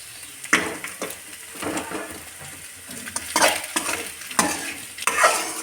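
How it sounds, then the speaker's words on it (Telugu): Egg and onions for fried rice being stirred and fried dry in a pan: loud, close sizzling punctuated by rhythmic spatula scrapes and clinks against the metal, with no speech. "ఎగ్ని అండ్ ఉల్లిగడ్డలని ఇలా పొడిగా అయ్యేంత వరకు మంచి కలుపుకోవాలి"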